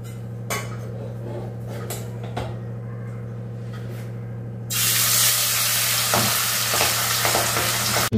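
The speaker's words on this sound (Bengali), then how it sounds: "তো মাছ ভাজতে বসিয়ে দিলাম।" Flour-coated fish fries in oil, a low hum and scattered clinks of pan and utensil giving way to a loud, sudden burst of crackling sizzle that fills the rest, close and without talk.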